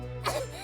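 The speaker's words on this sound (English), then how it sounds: "did she just cough blood all over my face?" A single brief cough from a character coughing blood in the game Vampires' Melody, a short throaty burst heard close over a steady background tone.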